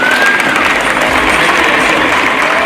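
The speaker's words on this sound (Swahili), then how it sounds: "Wapi makofi na makelele for His Excellency, wapi makofi" A large crowd at a political rally in Nairobi claps and cheers loudly and continuously, a dense wash of applause filling the whole moment without a break.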